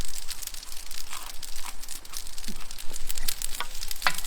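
Chilies fry and crackle in a hot pan on a Big Green Egg kamado grill, a dense, loud sizzle with popping spits and occasional stirring scrapes, close up.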